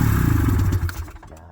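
An old Ski-Doo snowmobile that hasn't run in years, its engine cranking and trying to start without catching, giving a loud, rough, rhythmic churning that slows and fades out over about a second and a half.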